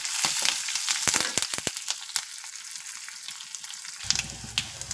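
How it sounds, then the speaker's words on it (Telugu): Pieces of wood apple and curry leaves fry in hot oil in a pan, a loud crackling sizzle with sharp spitting pops that settles into a quieter hiss, then a fresh burst of frying near the end. "ఇది తీసేసి వేలక్కాయ ముక్కలు కూడా వేయించేసుకుందాం కరివేపాకు వేసేద్దాం"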